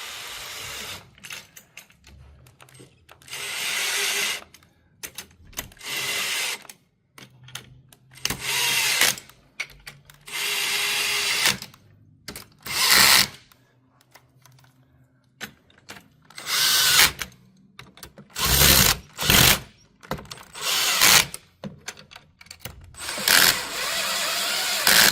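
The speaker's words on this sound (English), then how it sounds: "The tool with the 10mm socket makes quick work out of this." A power tool fitted with a 10mm socket tightens the front brackets of a WheelEEZ all-terrain beach wheelchair in repeated bursts of whirring of varying length, separated by brief pauses, loud and close.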